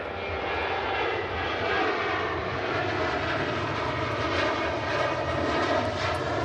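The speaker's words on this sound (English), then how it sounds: "the Ryanairs acting like the Jet 2s today with that takeoff" A Ryanair airliner taking off at Manchester Airport, its engines roaring in a steady, broad, loud rumble that holds strong for the whole stretch with no voices over it.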